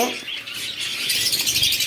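Java sparrows, including black and white varieties, chirp at a caged bird market, a dense bright twittering chorus close by with no voices.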